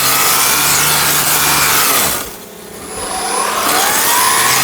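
A lightweight, quiet cordless string trimmer cuts through ordinary grass with a steady, close whirring hum that dips briefly in the middle before rising back to full speed.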